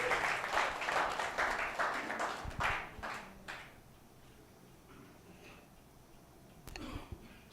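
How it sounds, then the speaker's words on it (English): Audience applause at a national assembly gathering in Hyderabad, a dense wash of many hands clapping for a few seconds, then fading to quiet before a brief sharp clatter near the end. "So we shall give him a round of applause"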